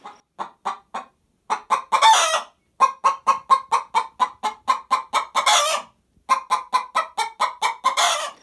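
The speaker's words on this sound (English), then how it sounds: "you can see that chickens make this bawk bawk sound for lots of different reasons" A chicken gives a repeated bawk bawk call, a rapid run of sharp clucks in bursts, close and loud, building into longer drawn-out squawks between the quick series, with no voices.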